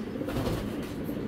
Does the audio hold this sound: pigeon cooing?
yes